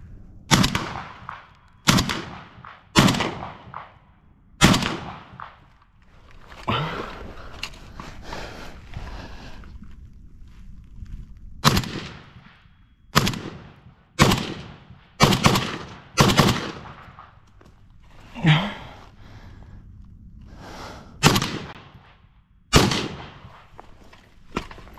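Rifle shots fired one at a time with corrosive surplus ammunition, about a dozen sharp loud cracks at irregular intervals separated by short pauses, outdoors with no talking.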